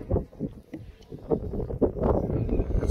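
Gusty wind on top of Crow Tor, Dartmoor, buffets the microphone in low, rumbling bursts that rise and fall over a few seconds.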